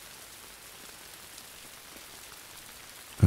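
Soft, steady rain falling, a faint even hiss of drops on surfaces throughout, with one brief louder knock near the end.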